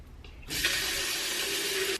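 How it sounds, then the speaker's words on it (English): Hot water gushes from a tap into a hot water bottle, a short burst of steady, hissing flow that starts abruptly and runs close and clear for about a second and a half before cutting off. "I'm going to fill up enough hot water for a hot water bottle because I'm quite chilly"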